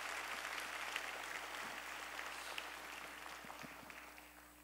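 Congregation in a Korean church service clapping in thanks for the choir and praise team, a faint, steady patter of applause that slowly tapers off.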